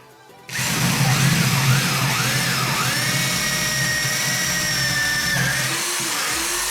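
A power drill whines to life after a moment of quiet and grinds steadily and loudly, its pitch wavering as it bores into a wooden desk.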